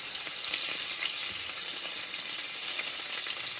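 Garlic and onions lightly frying in a pan, a steady, close, even sizzle that holds at one level throughout with no talking.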